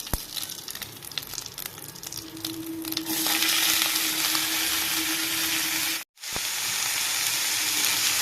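Ash gourd fries in hot oil over high heat, giving a loud, dense, steady sizzle that swells after a few seconds and drops out briefly near the end before resuming, with no one speaking.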